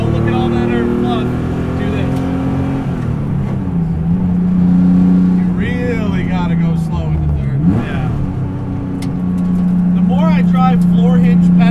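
A light 1970 Porsche 911, raced in period and now rat-rodded, drives along a road in second gear, its engine droning steadily and rising and falling with throttle while a person talks over it throughout.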